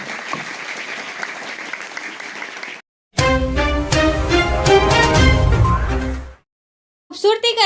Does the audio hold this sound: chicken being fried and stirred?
no